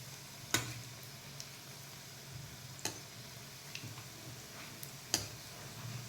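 Pakoda sizzling in hot oil, a faint steady frying hiss over a low hum with a few sharp pops and ticks spaced a couple of seconds apart.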